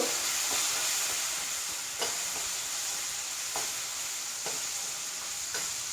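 Potatoes dropped into a hot pan for a vegetable kurma fry with a steady loud sizzle and hiss, stirred in a few regular scraping strokes, with no talk.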